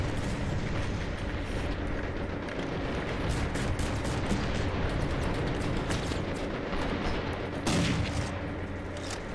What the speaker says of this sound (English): They're shooting something up on the road